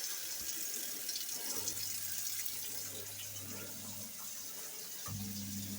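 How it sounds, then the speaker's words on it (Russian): Hot water running from a household tap, a steady hiss and splash that carries on throughout, with a low hum from the pump system coming and going underneath. "Включаем горячую воду."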